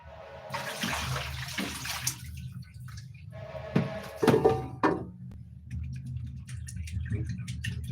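Water runs from a tap into a kitchen sink while small omena fish are rinsed, with a steady splashing rush broken by clatter and sloshing, and faint talk underneath.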